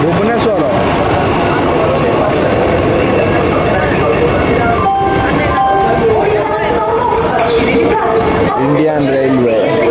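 Indian Railways passenger train in Odisha rumbling steadily and loudly throughout, with constant chatter of passengers over the running noise inside the coach.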